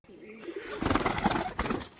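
Crested pigeons, kept as fancy breeding stock, give low soft cooing for the first moment, which then gives way to louder, broad rustling and bustle nearby.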